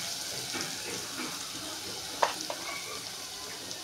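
Spices with red chili powder and turmeric sizzle softly in a pan for a soyabean bhaji, a continuous faint hiss with a few small clicks and a brief clatter midway.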